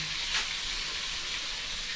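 Galunggong (mackerel scad) fries in hot oil, giving a steady, close sizzle with a soft spitting hiss and no talking.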